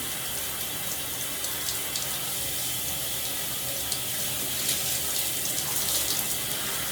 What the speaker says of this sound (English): I'm going to get in the shower.